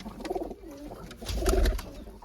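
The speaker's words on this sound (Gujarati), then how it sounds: "ચાલો હવે આપણે ઉડવાવાળા કબૂતરને બહાર કાઢીએ અને એમને ઉડાડીએ" Pigeons coo softly in short throaty bursts at close range as they are taken out to be released for flight, with faint rustling between the calls.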